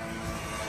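Steady droning hum of a drone flying overhead, continuous and fairly loud for under a second, no talking.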